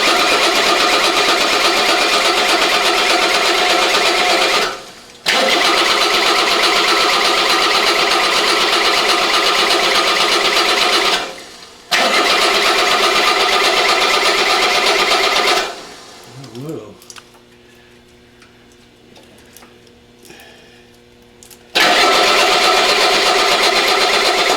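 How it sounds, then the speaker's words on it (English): A Mercedes five-cylinder diesel engine cranks in long, loud, rhythmic bursts with short pauses between, then drops to a quieter stretch with a low whine before cranking resumes; a voice talks at times. "what we're going to do is turn this engine over until we can get some fuel out of each one of those."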